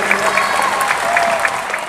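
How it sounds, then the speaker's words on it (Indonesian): An audience at a Bank Kalsel charity event for Palestine gives lively applause, a loud, sustained wash of clapping with a few voices audible beneath it. "Berikan tepuk tangan yang meriah"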